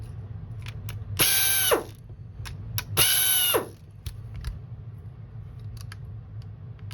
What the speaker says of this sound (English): we're gonna take out 2 more T15 screws and then 1 T8 screw right here.